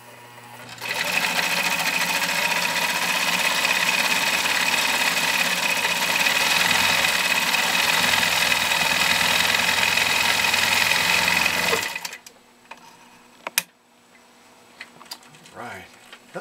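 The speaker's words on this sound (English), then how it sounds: "I'll show you how beautifully this Viking Model 21 sews decoratively" Viking Husqvarna Model 21 sewing machine sewing decorative stitches, a loud, even, close whirring run lasting about eleven seconds that stops abruptly, followed by faint clicks and quiet handling.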